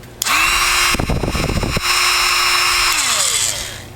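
A Flextail Max rechargeable mini air pump fitted with a nozzle adapter whirs at high pitch, briefly interrupted by rapid fluttering rattles, then resumes a steady whine before spinning down.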